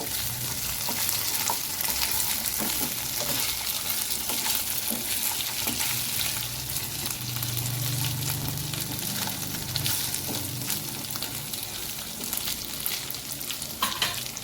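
Fish pieces coated in ginger garlic paste fry in a pan for fish fry, a loud continuous close sizzle and crackle with occasional stirring scrapes throughout, no voices.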